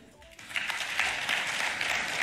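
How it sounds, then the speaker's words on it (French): Senators applaud in a legislative chamber during a presidential address on the state of the nation in Côte d'Ivoire, a steady wash of clapping that starts quietly and swells after a moment, holding at a fairly loud level. "Je vois que les sénateurs et sénatrices applaudissent."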